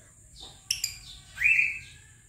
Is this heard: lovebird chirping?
yes